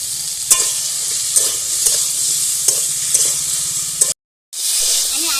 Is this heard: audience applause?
no